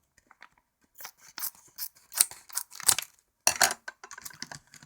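Scissors snip and crunch through the plastic packaging of a Halo Mega Bloks figure, a close series of short irregular cuts with crinkling plastic between them, fairly quiet and without talk.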